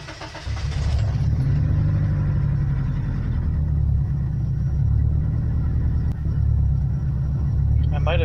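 A 420A engine on Megasquirt with a coil wire unplugged running rough, a loud low rumbling idle that holds steady close by, with a voice speaking over it.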